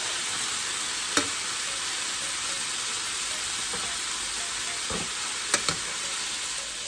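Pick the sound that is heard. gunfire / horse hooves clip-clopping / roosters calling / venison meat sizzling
venison meat sizzling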